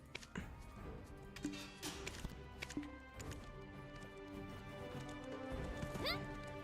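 Horse hooves clip-clop in an irregular patter in the video game Black Desert, closing with a clear whinny near the end over soft background game sounds.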